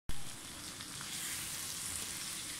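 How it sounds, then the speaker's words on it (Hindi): Potatoes and tomatoes fry in a pan for a vegetable dish, giving a steady, close hiss and sizzle that starts abruptly and holds evenly throughout. "आलूओं के साथ भूनें इनको, टमाटरों को।"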